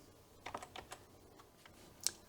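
Keys on a computer keyboard are struck in a short, uneven burst of soft clicks with one sharper tap near the end, close up and quiet; the keyboard is attached to a retro computer with an ECB VGA3 card.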